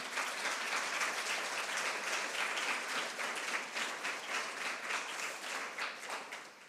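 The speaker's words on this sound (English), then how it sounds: "Please applause for her." Steady, dense applause from a sizeable symposium audience, many hands clapping continuously at an even level throughout with no voices on top.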